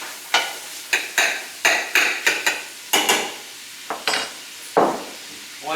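Onions hit hot bacon grease in a pan for cheeseburger soup, with a series of sharp scraping stirs and clinks over a soft sizzle, close and loud with no talking.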